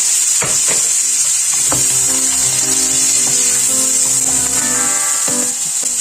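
Chopped onion dropped into a hot pan of browning garlic for a beef and mushroom stir fry, a loud, continuous sizzle with a few scraping stirs near the start.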